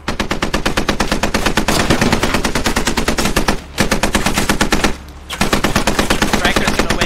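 Rapid automatic gunfire in the tactical shooter game Squad, fired at supply caches: loud, dense bursts of machine-gun shots with two brief pauses between strings of fire.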